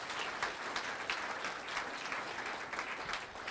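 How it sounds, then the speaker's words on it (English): Audience at a cancer survivorship event applauding survivors, a continuous, moderately faint patter of many hands clapping without speech. "I really want to start by giving everyone here who is a survivor a huge round of applause."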